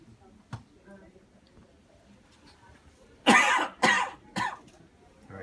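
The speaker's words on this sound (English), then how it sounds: "can you cough up anything again one more time?" A patient gives three loud, close coughs in quick succession after a stretch of near silence broken by a faint tick.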